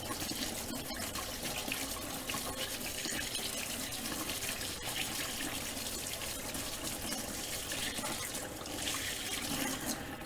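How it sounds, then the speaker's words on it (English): A hand mixer attachment is rinsed under a running kitchen tap, with steady broadband water rushing and splashing into the sink for about ten seconds at close range and no talking. "I think I'm going to need to wash up the old hand mixer bit"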